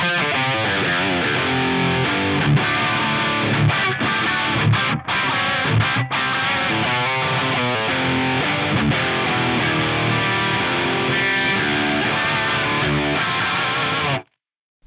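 Electric guitar run dry through an Axe-Fx III preset with a cabinet impulse response, distorted chords and riffs played loud and continuous with a few short gaps before stopping abruptly.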